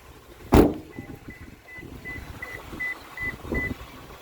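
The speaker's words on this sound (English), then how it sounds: "It does have a fully automatic driver's side window" Automatic driver's side power window on a 2021 Lexus RX350 moving with a faint motor whine, preceded by a sharp thump and followed by a short series of soft electronic beeps, with no speech.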